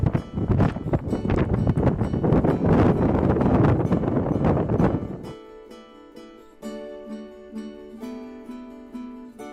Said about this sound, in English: you're still quite exposed to the wind